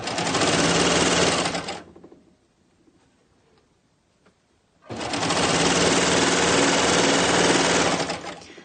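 Sewing machine running fast on knit fabric for made-to-measure stockings, a steady loud whir for about two seconds, then a pause with faint handling, then another long run.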